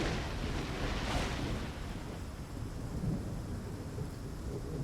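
A nighttime thunderstorm with steady heavy rain, a loud broadband rumble of thunder swelling early and then easing into continuous close rainfall with no voices.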